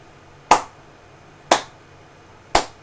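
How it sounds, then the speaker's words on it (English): A slow clap: three sharp, single hand claps spaced evenly about a second apart, close and crisp, each ringing briefly into quiet with nothing else heard. "I can't do nothing but slow clap and appreciation"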